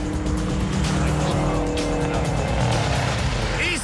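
A car launches into a drift run at the Bullrun USA 2009 rally with loud engine roar and squealing tires, continuous and close, with faint voices in the background.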